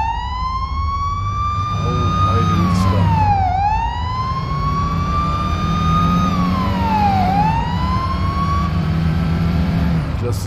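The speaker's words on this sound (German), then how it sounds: "Ich lasse die Sirene mal aus." A loud wailing police siren in a police simulator video game rises and falls in long sweeps over a steady engine rumble, with no speech.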